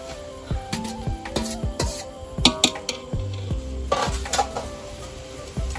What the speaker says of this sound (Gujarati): હવે એની અંદર આપણે નાખી દેવું નૂડલ્સ.